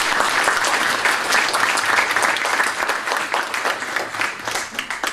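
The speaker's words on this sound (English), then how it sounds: "they deserve a round of applause." Conference audience applauding panel speakers at an event on EU cooperation with Central Asia, a sustained, dense wash of clapping from many hands in a hall that stays steady and slowly thins toward the end.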